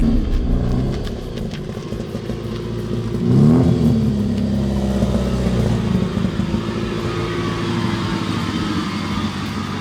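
A Nissan Gloria's engine revs at a drift day, a steady rumbling drone that swells around the middle and holds on, heard close with no talking.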